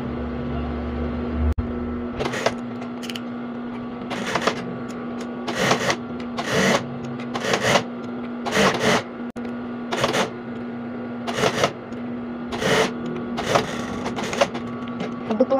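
A sewing machine stitching forward and in reverse to secure the neckband seam of a baby's ruffled dress: repeated short bursts of close, whirring motor noise separated by pauses, with a voice talking at times.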